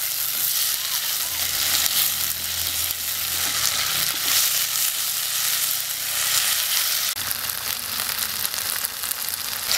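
Chicken pieces tossed into a pan of softened onions for a Chinese-style broccoli dish sizzle loudly and steadily up close, with occasional stirring scrapes throughout.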